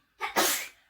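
A single close, loud sneeze with a short sharp intake followed by the burst, alone in a quiet room.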